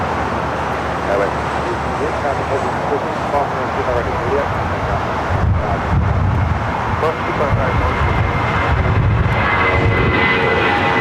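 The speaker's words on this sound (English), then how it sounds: "Next takeoff here on the south side is A320 heading to SFO, United Airlines" United Airlines A320 taking off from the south side runways at LAX, a loud continuous jet engine roar with wind buffeting the microphone, steady throughout and heard at a distance.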